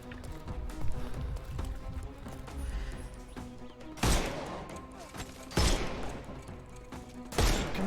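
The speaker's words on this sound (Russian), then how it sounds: "Блин, 3 выстрела, чтоб чувака глушить." Gunfire in the video game Sherlock Holmes: Chapter One, three sharp, loud shots spaced a couple of seconds apart, cutting through busy in-game background noise and music.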